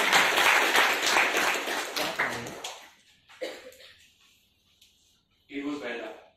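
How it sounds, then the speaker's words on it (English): Participants in a student group-discussion session give a dense round of applause that fills the first couple of seconds, then breaks off. Voices and a few stray sounds follow in the quieter remainder. "You can give another round of applause to yourself."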